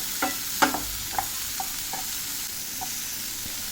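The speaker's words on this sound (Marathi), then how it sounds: "त्यातच आपण आता व्यवस्थित असं भाजून घ्यायचं थोडा वेळ" Sweet corn roasting in a single spoon of oil in a pan: a soft steady sizzle with a few scattered clicks of a spoon stirring, fairly quiet and close, no voices.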